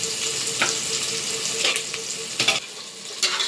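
Onions sauté in a pan until brownish, a close, continuous crackling sizzle punctuated by several sharp scraping stirs and clinks.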